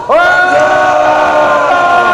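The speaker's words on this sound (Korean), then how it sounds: "박수가 아니라 함성." A large crowd at a rally for the president raises a loud, sustained roar of shouting and cheering that swells quickly and holds steady for about two seconds.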